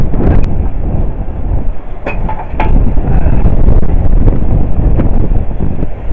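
A sailboat runs before a strong 20 to 25 knot tailwind off Morocco, heading for Essaouira with the sail poled out. Loud, steady wind roar with rushing gusts fills the whole stretch, and no one speaks.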